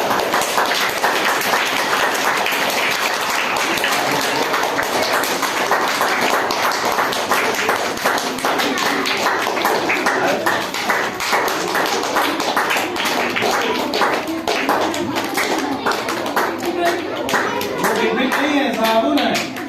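Enthusiastic applause at a Saraswati Puja school cultural programme, many hands clapping in a loud, crackling, sustained burst with children's voices mixed in throughout.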